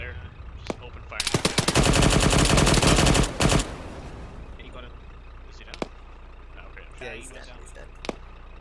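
Video game gunfire from Operation Burning Steel, a loud sustained burst of rapid automatic shots lasting about two seconds, followed by scattered single shots and quiet background, with voices talking.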